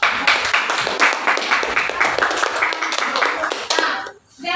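Classroom students clap together for a classmate, a loud, close, rhythmic round of hand claps in a quick steady beat that stops abruptly near the end.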